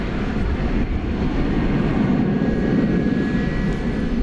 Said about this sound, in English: So that's a 26-year-old aircraft